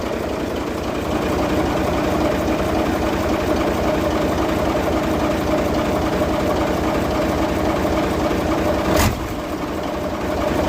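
Mitsubishi 8M20 diesel engine revved high during alternator repair: a loud, steady, dense mechanical roar with a rapid churning beat that stays continuous, with one brief sharp click near the end.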